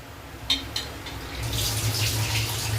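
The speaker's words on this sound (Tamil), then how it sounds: "இப்போ அரிசியை போட போறேன்." Soaked rice tipped into a pot of boiling water while making chicken biryani, a couple of light clinks followed by a soft splash and steady bubbling hiss, close and fairly quiet.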